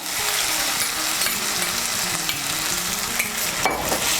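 Tomato paste fries in oil with spice pastes, giving a steady close sizzle broken by repeated scraping strokes of a spoon stirring through the mixture, moderately loud with no talking.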